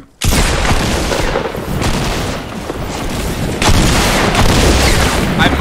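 Shotgun fire in Fortnite Close Quarters mode: loud, dense booming blasts follow one another with almost no gaps, forming a heavy, continuous barrage that stays near and harsh throughout.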